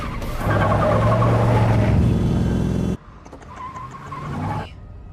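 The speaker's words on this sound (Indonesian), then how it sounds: "Setelah lampu hijau dan semua mobil berjalan, Tom menyalip mobil Rachel dan mendadak berhenti di depannya" Cars roll through a traffic intersection as a car engine roars loudly and close before cutting off abruptly, then a quieter engine hum and road noise follow.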